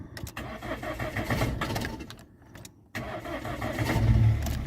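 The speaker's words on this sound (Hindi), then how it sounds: "ये हमारी गाड़ी होगी अब स्टार्ट" A manual-transmission car is started with the ignition key while the clutch is held down: the starter cranks in bursts, pauses, then the engine catches and settles into a steady idle.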